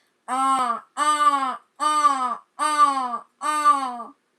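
A person imitates a crow's caw with five harsh, drawn-out calls in a steady rhythm, each separated by a short pause, close and loud with nothing else around them.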